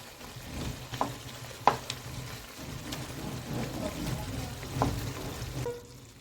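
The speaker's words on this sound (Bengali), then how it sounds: "মাছগুলো গ্রেভিতে ফুটতে দিয়েছি" Fried tangra fish simmer in a spicy mustard-oil gravy with a soft bubbling sizzle, broken by a few clinks and stirring knocks. The sound stays fairly quiet and close, with no talking.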